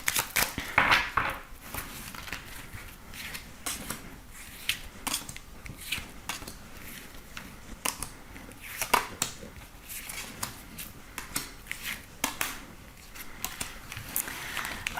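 Tarot cards being shuffled for a reading, giving a steady run of soft papery riffles and flicks with brief sharper snaps, close and fairly quiet, with no voices.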